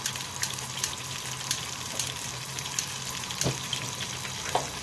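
Rice fries in a pan with a steady, close sizzle, scattered with small crackles and a few sharper pops, and no talking.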